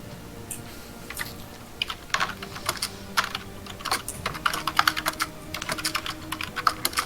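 Typing on a computer keyboard, a steady run of close, crisp key clicks in irregular bursts that grow busier and louder toward the end, heard alone.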